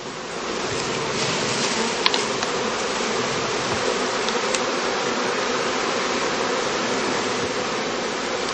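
Honeybees swarming and buzzing at a heather skep apiary on a heathland bee farm during cast swarming, a dense, loud, continuous drone of many bees close by, with a couple of faint clicks.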